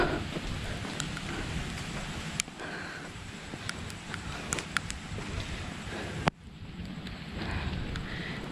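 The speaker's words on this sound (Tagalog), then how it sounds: "Inabutan ako ng ulan sa labas." Rain falls outdoors during a night walk around a neighbourhood, a steady hiss with gusty wind noise on the microphone and scattered sharp drips and taps throughout.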